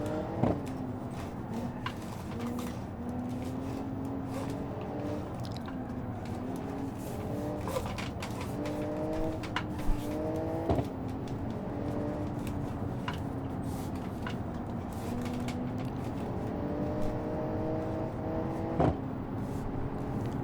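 A Porsche 911-style touring car in the BeamNG driving game revs and accelerates, its engine note climbing and dropping through repeated gear changes, steady and moderately loud for the whole stretch.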